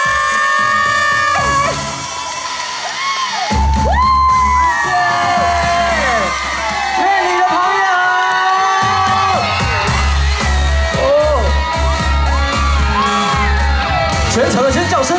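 At an outdoor rice-food festival in Yuanli, an audience greets a singer with a steady roar of cheers, whoops and shouts. A host's amplified voice talks over the crowd throughout.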